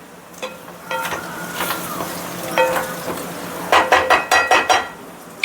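Stuffed okra (bharela bhinda) cooking with masala in a pan, soft sizzling under a series of spatula stirs and scrapes, ending in a quick run of sharp metallic clinks against the pan.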